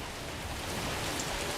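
Steady, dense rainfall in the video game Death Stranding 2, hissing evenly throughout, a continuous wash of drops with no pauses or other sounds.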